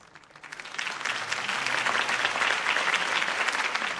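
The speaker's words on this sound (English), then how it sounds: "If only Mr. Wayne, my campaign's largest backer, could have heard that applause" Crowd applause for a campaign speech in Batman: The Telltale Series, a dense wash of clapping that starts modestly and quickly swells to a steady, full roar from a large audience, with no speech over it.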